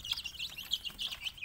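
A flock of 23-day-old broiler chickens at night, giving soft, high clucks and chirps in a quick, uneven string. The sound is faint and brief.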